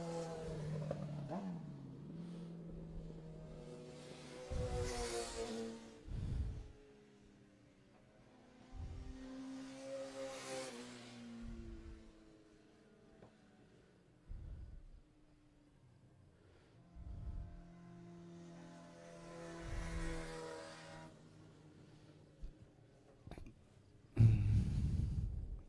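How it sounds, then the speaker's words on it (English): Vintage race cars in an eight-lap vintage open event at an amateur racing circuit pass one after another along the front straightaway, each engine roar swelling and fading, with quieter gaps between passes and a sharp noise burst at the end. "As now Blaise makes his way onto the front straightaway"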